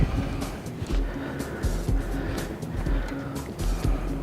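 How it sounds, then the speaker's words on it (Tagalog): Cars pass along a city street, their engines rumbling and swelling in repeated waves as vehicles go by fairly close, under a steady background of traffic noise. "Kalsadang wala masyadong kotse, pero parang dumadami na sila."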